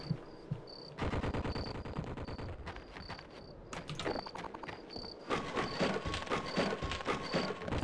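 MG42 machine gun fire in the game They Hunger: rapid mechanical bursts of gunfire in choppy, repeated stretches with sharp impact crackles and recurring high electronic beeps throughout, loud and close.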